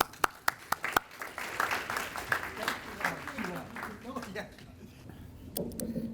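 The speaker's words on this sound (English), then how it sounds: "let's give him a good round of applause" A few loud separate claps open a round of applause for a speaker at a conference session, then the clapping thins into a murmuring audience and voices before a couple of late claps, all fairly faint and roomy.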